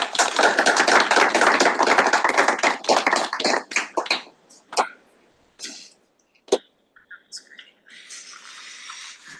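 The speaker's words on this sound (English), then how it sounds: "We can clap for VP Jay." Audience applause for a student government vice president, a dense burst of many hands clapping that thins out into scattered claps and fades by mid-clip, with a brief hiss of background noise near the end.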